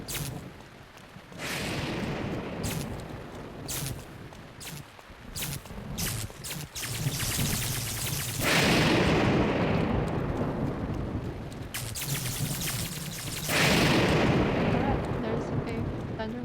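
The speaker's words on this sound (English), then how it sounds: "Lightning and a thunder." Thunder rumbles and cracks through a lightning storm in Zelda: Breath of the Wild, loud rolling booms swelling and fading in long waves with sharp strikes between them, close and heavy.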